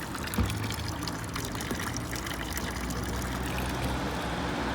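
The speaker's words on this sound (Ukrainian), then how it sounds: "Знов фонтан. Знов можна купити воду." Water runs steadily from a public drinking fountain on a street in Switzerland, a constant close splashing rush that stays unbroken the whole time.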